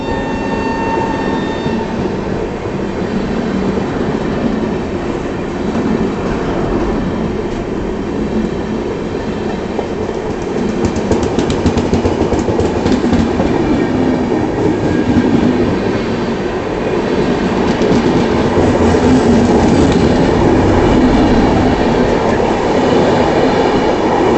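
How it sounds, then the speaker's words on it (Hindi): The Yoga Express passenger train from Ahmedabad to Delhi rumbles loudly and steadily as it departs, a continuous close roar of rail cars with faint clatter and squeal from the wheels. "हमारी योगा एक्सप्रेस का भी डिपार्चर सिग्नल हो चुका है, डिपार्चर होंगे"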